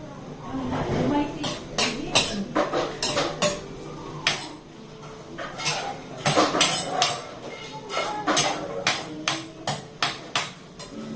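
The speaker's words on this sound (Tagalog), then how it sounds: "Because I'm cooking." Pots, pans and cutlery clatter during home cooking, with sharp irregular metallic clanks and scrapes coming in quick bursts, close by, while a person talks in between.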